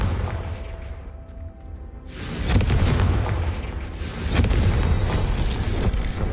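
A Confringo spell explosion in Hogwarts Legacy, a loud, deep booming blast that rumbles on and then surges again into a second roaring burst.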